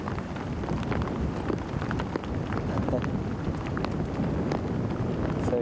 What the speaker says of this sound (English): And you hear the rain, everyone.